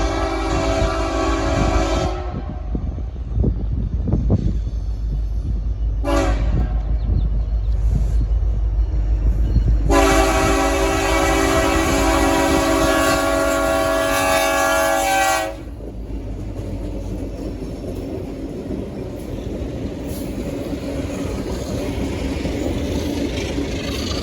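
ALCO diesel locomotives, C420s teamed with an SD70ACE, roar past on a road train, the horn sounding in long loud blasts over the engine rumble and the clatter of passing cars.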